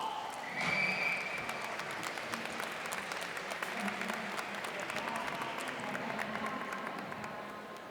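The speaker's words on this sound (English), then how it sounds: "You hear his teammates cheering for him." At a world kung fu championship, teammates applaud and cheer for a competitor, a sustained crowd clapping with a brief louder rise early on, heard from across a large hall.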